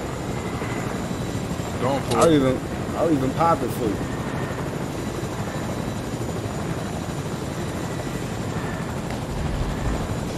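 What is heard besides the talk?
helicopter flying in a video game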